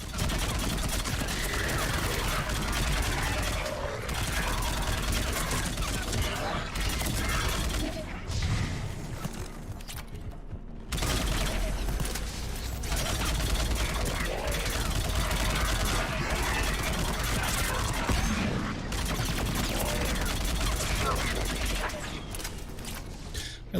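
Sustained gunfire from Mass Effect 3 on PS5 forms a dense, loud, continuous clatter of shots and mechanical noise that runs almost unbroken, with brief gaps and occasional voices mixed in.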